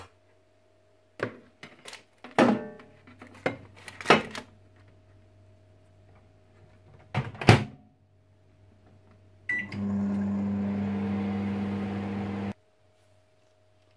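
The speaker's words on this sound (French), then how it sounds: "On va mettre dans le micro-ondes 1 minute à 1 minute 20." Microwave oven heating pre-cooked meat balls: a few scattered clicks and clunks as the door shuts and buttons are pressed, a low steady hum underneath, then a loud whirring run of about three seconds that stops abruptly.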